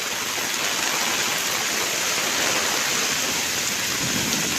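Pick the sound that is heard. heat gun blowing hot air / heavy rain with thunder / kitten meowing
heavy rain with thunder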